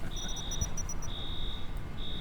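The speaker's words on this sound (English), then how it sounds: "why have we now got the alarm going again?" An electronic alarm in the video game Infra beeps in repeated high, steady tones, short pulses then longer sustained tones with gaps, over a low background rumble.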